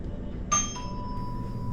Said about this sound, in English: when the doorbell is pressed, the green indicator light comes on